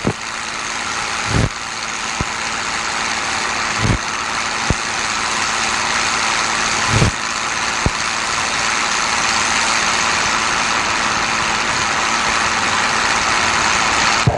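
Steady engine drone of a P-51 Mustang, the Crazy Horse, departing the traffic pattern at Kissimmee, holding a constant level for the whole stretch, with a few sharp clicks and thumps over it and no talk.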